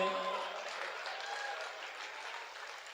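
Audience applause at a Hindi comedy poetry show at Sharda Palace, a steady moderate wash of clapping lasting throughout, fairly thin and even with no single claps standing out.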